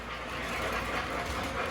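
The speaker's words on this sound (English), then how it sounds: "if you had an electric train set going around your track" MTH 2.0 electric model train of the Pennsylvania Railroad running around an upper loop of track, giving a steady close whirring rumble with faint rail clatter throughout.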